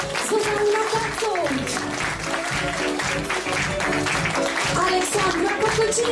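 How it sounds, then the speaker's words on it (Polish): An audience at a school concert in Poland applauds the pupil singers with loud, dense clapping that runs steadily throughout, with a tonal voice or music sustained underneath. "Wielkie dla nich! Brawa!"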